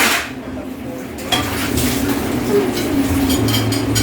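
Cooking pots and utensils are washed by hand, with clinks and clatters of metal dishes and cutlery over running water, close by and steady.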